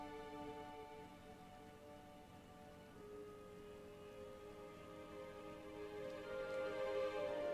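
Steady rain falls in Final Fantasy XIV, a continuous wash of drops on surfaces with a faint tonal game music bed beneath, swelling slightly louder toward the end, no voices.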